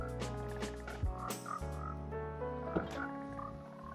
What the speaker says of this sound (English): And I got some frogs in here.